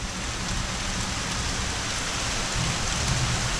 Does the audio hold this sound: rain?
yes